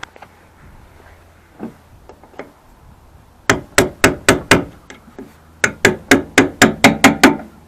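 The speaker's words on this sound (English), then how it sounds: "We're going to take a hammer and a punch and just bend that flat." Hammer striking a punch to bend a metal tab flat while installing a tailgate assist on a Ram truck: a few scattered taps, then two bursts of sharp, evenly spaced ringing blows, loud and close.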